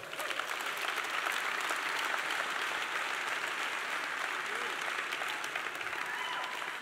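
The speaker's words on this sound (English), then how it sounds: "A very warm round of applause for our launching partner," A sustained, even round of audience applause for launching partner Eneco during a pitch presentation, moderately loud and continuous from start to finish.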